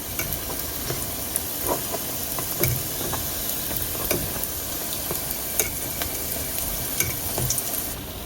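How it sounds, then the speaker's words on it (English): Jamaican fry dumplings frying in a pot of hot oil give a steady, dense sizzle with scattered crackles and pops throughout, close and continuous with no talking. "you wanna fry them for about 4 to 6 minutes on each side"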